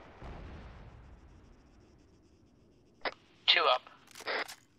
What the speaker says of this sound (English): Is that mortars?